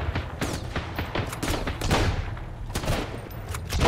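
Heavy machine gun fire in the survival game Sunkenland, a dense, continuous rattle of rapid shots with overlapping bursts, loud and close throughout, no speech.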